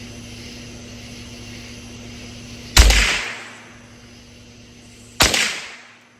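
Two sharp rifle shots ring out a couple of seconds apart at a range while a thermal scope is sighted in, each crack followed by a long decaying echo over a low background hum.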